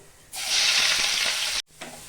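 Sliced onions hit hot white oil and butter in a wok for birista, bursting into a loud, steady sizzle that holds for over a second, briefly cuts out, then resumes more softly.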